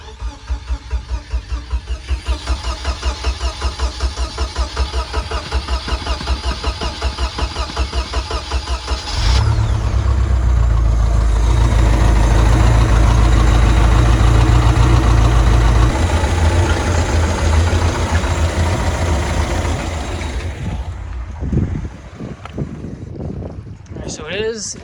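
Inboard engine on a pontoon boat, with the water supply running for an impeller test, cranks over in a steady rapid rhythm for several seconds, catches, and settles into a loud, rumbling idle close by.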